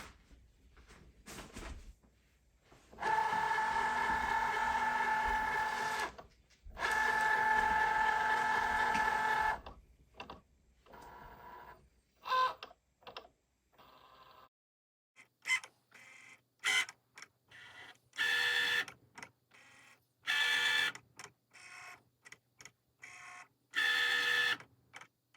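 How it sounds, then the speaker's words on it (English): A Cricut Maker cutting machine feeds in a sheet, scans registration marks and cuts a faux stained glass bookmark: bursts of whirring motor noise separated by pauses, then a run of short clicks and rapid buzzing movements, nearby and without speech. "It's going to suck it in. It's going to read the registration marks,"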